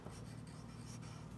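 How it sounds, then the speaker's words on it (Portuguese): A teacher writing the number 700 during a math lesson, heard as a brief, steady scratch of writing lasting about a second and a half, without speech. "a tia vai escrever aqui"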